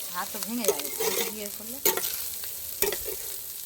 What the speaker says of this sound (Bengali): আর একটা আইটেম অ্যাড হয়েছে মাছ ভাজা কাতলা মাছ ভাজা